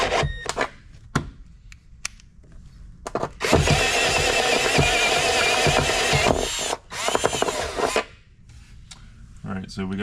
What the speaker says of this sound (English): we got the 2 holes drilled